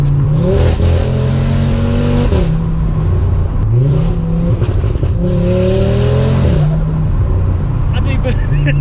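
A VW Golf R fitted with a 640bhp 2.5L Audi RS3 engine revs hard in three loud, close sweeping pulls, each climbing and dropping, with a voice briefly audible.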